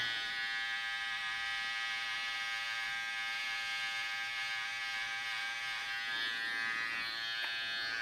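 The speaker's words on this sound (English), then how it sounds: "So that's that side with the trimmer." An electric beard trimmer buzzes continuously at close range while trimming a full beard, a steady high whine with slight shifts in tone as it moves through the hair, with no talk.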